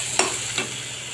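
Bitter gourd fries in a pan with a soft steady hiss, broken by two quick stirring scrapes in just over a second, close, with no voices.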